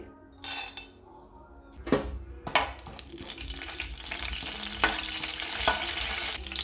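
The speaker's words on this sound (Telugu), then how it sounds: "ఆయిల్ వేడికిందండి ఇప్పుడు పచ్చనపప్పు వేసుకోవాలి" Chana dal frying in hot oil in a kitchen pan: a steady close sizzle with a few sharp metallic clinks and stirring scrapes of a utensil against the pan, no talking.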